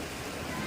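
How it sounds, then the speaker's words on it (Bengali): Heavy rain falls as a dense, steady hiss close by, loud and unbroken. "খুব বৃষ্টি পড়ছে"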